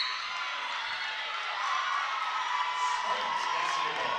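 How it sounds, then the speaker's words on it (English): Loud crowd screaming and cheering fills a women's college basketball gym as a player enters the game, a sustained high-pitched roar of shouts and whoops with no break. "Boy, you can hear the screaming."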